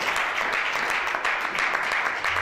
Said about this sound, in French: Si on peut acclamer pour cette chorale